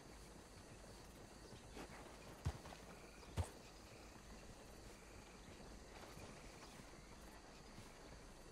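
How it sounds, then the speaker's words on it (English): Horse hooves clip-clop at a walking pace in Red Dead Redemption 2, soft and fairly close, with a couple of sharper thuds and crickets chirping faintly in the background. "That is a good old horse."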